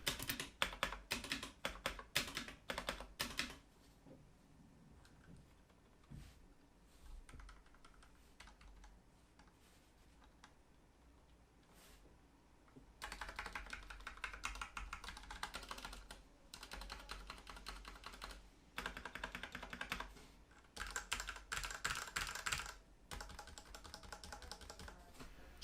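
Rapid typing on a Ducky One 2 Mini keyboard in pure white, dense clattering bursts of keystrokes up close, alternating with quieter pauses of sparse taps, heard with no speech.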